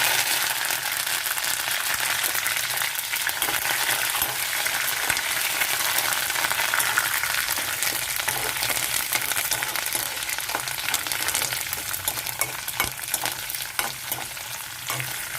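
Fenugreek seeds frying in hot oil with green chilies and curry leaves, giving a steady, dense sizzle and crackle that runs without a break and stays fairly close and moderately loud.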